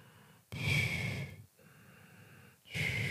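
Slow, audible breaths drawn through the nose: a long inhale, a softer exhale, then another inhale, close and alone with no talking.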